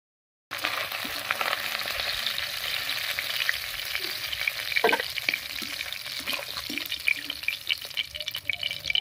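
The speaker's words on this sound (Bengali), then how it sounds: "মাছের মাথাটা খুব ভালো করে ভেজে নিয়েছি" Rohu fish head frying in hot oil in a home kitchen, a steady dense sizzle filling the whole stretch with occasional stirring clinks and pops, close and fairly loud, no talking.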